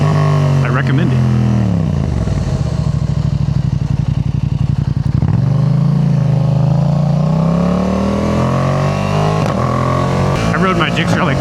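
A 2025 Yamaha MT-07 motorcycle with a quickshifter, accelerating hard with a steady loud engine drone that rises in pitch, dips briefly at the upshifts and climbs again.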